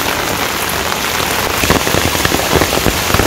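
Rain falls steadily on a Bangladeshi village, a loud close wash of drops with heavier patters and splashes building toward the end.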